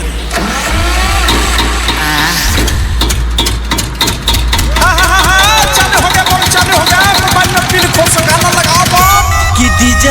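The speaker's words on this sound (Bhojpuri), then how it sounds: "अभी हम तेल रह के जनरेटर चालू करते हैं" A diesel generator is cranked and fires up, then runs with a loud, steady engine drone whose pitch rises and falls as it revs, close by and continuous throughout.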